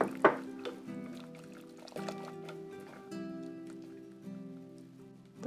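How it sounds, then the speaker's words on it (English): Coconut milk mixture trickles and drips into a bowl while a whisk clinks and stirs steadily, close up, with no talking, as Hawaiian coconut pudding (haupia) thickens. "we're going to slowly pour this in and whisk the entire time"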